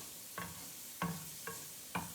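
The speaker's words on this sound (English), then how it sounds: "So they're nicely sizzling there" Steady sizzling of food frying in a pan, broken by four clacking stirs at regular intervals, close by with no voices.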